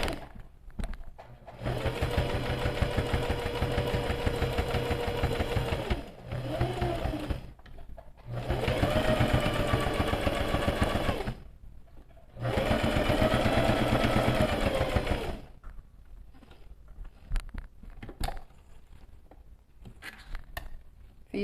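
A sewing machine stitches through layered outer and lining fabric in diagonal lines for quilting, running in three sustained loud bursts with short pauses between, then near silence with faint handling sounds.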